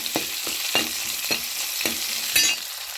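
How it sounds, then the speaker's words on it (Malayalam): Small onions sizzle steadily in a hot pan while a utensil stirs them in regular scraping strokes, about six over a few seconds, close and fairly loud. "ഇങ്ങനെ ഇളക്കി നല്ലപോലെ വാടട്ടെ."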